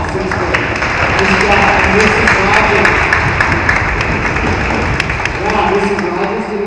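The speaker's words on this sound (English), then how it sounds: "Let's give them another applause, sixth graders." Audience applause for a sixth grade orchestra at a school concert, dense sustained clapping from a crowd filling the room, with voices talking over it.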